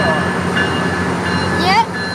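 Passenger train led by engine 902, bound for Oceanside, rumbling steadily and close by, with a brief rising squeal near the end and a voice speaking over it.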